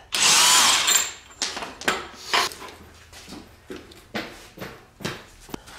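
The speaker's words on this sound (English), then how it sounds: "hit it real hard with the impact" Close, loud bursts from an impact wrench on the front axle of a Can-Am Outlander 400 ATV: one long hammering burst, then a run of shorter rattling hits spaced about a second apart.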